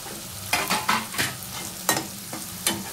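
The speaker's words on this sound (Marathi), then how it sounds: "हळद टाकल्यावर तेलामध्ये छानसं हळद परतून घ्यायची आहे।" Turmeric sautéing in hot oil for kanda poha, a soft continuous sizzle punctuated by several sharp spatula scrapes against the pan at an uneven rhythm.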